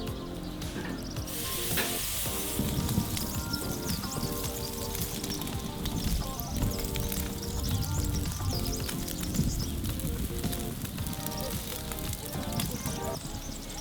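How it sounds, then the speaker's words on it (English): Tomahawk steak on a grill grate over fire, a continuous close sizzle and crackle with faint irregular taps, steady in level throughout. "we'll place the tomahawk steak in the middle of the grate and cook it for 4 minutes"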